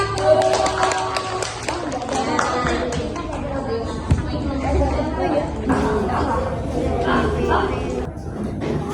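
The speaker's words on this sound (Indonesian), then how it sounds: "tepuk tangan untuk nomor 1" A classroom of children claps for a classmate at number one, with scattered, uneven hand claps mixed into loud chatter and voices, close and busy throughout.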